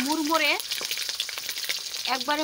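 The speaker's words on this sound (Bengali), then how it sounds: "এভাবে আমি লালচে বর্ণের করে বা বাদামি বর্ণের করে ভেজে নেব।" Eggs frying in a pan until browned, a close sizzle with brief stirring, while a voice talks at the start and end.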